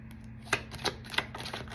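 Several crisp riffling bursts of tarot cards being shuffled, spaced about a third of a second apart, close and fairly quiet over a low steady hum.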